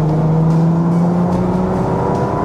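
Engine and exhaust of a 2018 Bentley Continental GT heard from inside the well-insulated cabin, a steady, smooth drone with a rising tone across the clip, loud and continuous, with no talk.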